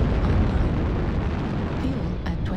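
A mech blows up in MechWarrior Online, a sustained roaring blast rumble that stays loud throughout, with faint synthetic tones flickering near the end.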